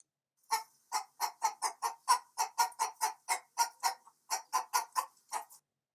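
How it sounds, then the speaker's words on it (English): A chicken clucks in a steady run of short, sharp, close calls, close to twenty evenly spaced clucks with one small gap, as a clean sound effect with nothing behind it. "And your farm has a chicken."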